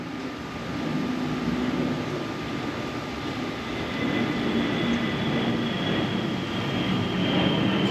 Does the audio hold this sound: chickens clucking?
no